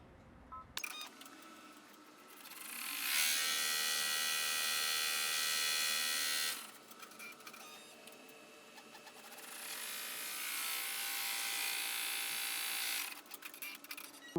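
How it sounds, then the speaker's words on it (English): An embroidery machine stitching placement lines for an in-the-hoop rivet handbag, whirring in two long, even runs of rapid mechanical buzzing, close and steady, separated by a brief quieter pause. "we're going to put it in the machine and run our placement lines"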